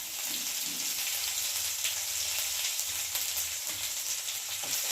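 Ginger pieces and green chillies frying in hot oil give a steady, close sizzle with faint crackles throughout, no one talking.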